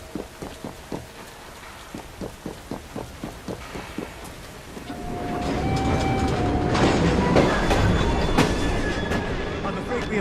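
A train in the video game Assassin's Creed Syndicate clatters along in a rhythmic clickety-clack over the rails, then gives way to a louder, steady rushing roar with a high whine as it speeds on.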